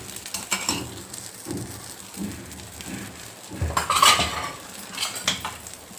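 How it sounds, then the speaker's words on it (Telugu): Oil drizzled around the edges of a protein dosa on a hot pan, with light sizzling and clinks of a metal utensil against the pan, a brighter burst of hissing midway, close and moderately loud. "అంచులో కొంచెము నూనె వేసుకోవాలి."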